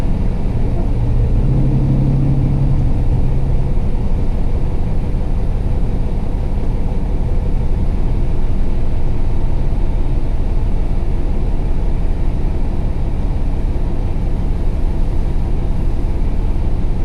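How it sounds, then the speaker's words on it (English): A pickup truck drives with a steady, loud engine and road rumble that fills the whole stretch, with no talking. "Enjoyed coming back and driving this truck and seeing how it is."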